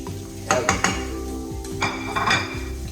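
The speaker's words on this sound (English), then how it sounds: "now you got the sausages in the pan. Great. Move them around a little bit." Sausages are pushed around a frying pan, giving ringing metallic clinks and scrapes of utensil on pan in two short bursts over a faint sizzle.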